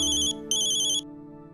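A mobile phone ringtone for an incoming call plays as a bright, repeating electronic melody in two close bursts with a short gap between them, loud and near over a low background hum.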